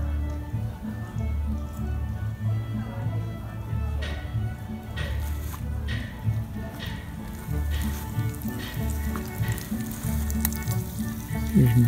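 Bacon sizzles in a pan over an outdoor campfire, a steady soft crackle and spatter with occasional pops, while a person talks nearby.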